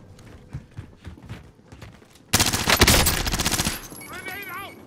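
Automatic gunfire in Call of Duty: Modern Warfare, with scattered softer sounds, then a sudden loud, rapid burst of shots lasting over a second, followed by fainter chatter and a warbling tone.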